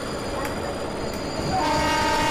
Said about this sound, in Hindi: एक और लोकल ट्रेन आपको दिख रहा होगा हमारे साइड से आ रही है, ये स्लो लोकल है शायद